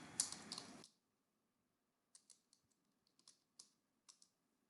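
A computer keyboard is typed on in short bursts of soft, close key clicks, first a dense cluster and then a few scattered taps after a pause.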